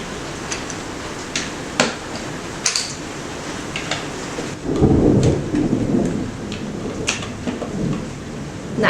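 Heavy pouring rain with thunder, a constant dense wash of rain on surfaces broken by a deep rolling rumble of thunder midway, fairly loud and without speech.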